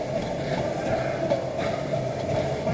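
A train rumbles along, heard from inside the carriage, as a steady dense roar with faint rhythmic clatter, loud and unbroken throughout.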